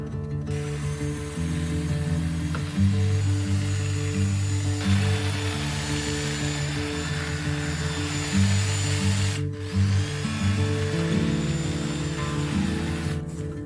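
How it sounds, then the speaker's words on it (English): An electric hedge trimmer cuts through a garden hedge on an allotment, its motor buzzing steadily and loudly with a choppy, pulsing rhythm from the blades for the whole stretch, with a brief drop near the end. "First I'm going to trim the hedge, and I'm going to do it with this electric hedge trimmer"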